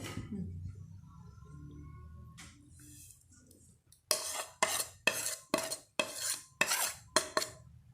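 Ginger, garlic and spices are worked into a beef kebab mixture with a spoon, which clinks sharply against a bowl about seven times in a quick, even rhythm after a few quieter seconds of background noise.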